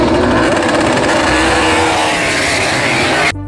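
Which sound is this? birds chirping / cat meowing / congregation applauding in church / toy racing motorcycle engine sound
toy racing motorcycle engine sound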